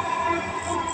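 A Dhaka metro rail train runs between Farmgate and Uttara Diabari, its steady rumble and whine heard from inside the carriage, continuous and even with no talking.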